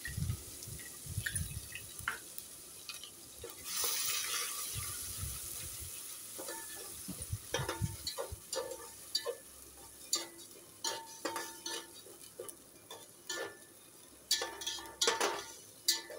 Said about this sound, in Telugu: మిక్సీ పట్టి పెట్టుకున్న ఆనియన్ పేస్ట్ వేసేసుకోవాలండి.